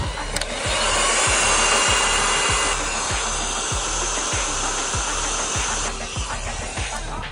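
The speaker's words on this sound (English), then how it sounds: "after you crimp this onto your wiring, you just use a heat gun like this" Heat gun blowing a steady, close airy roar while shrinking a waterproof adhesive-lined butt splice connector, with a faint regular ticking underneath and no speech.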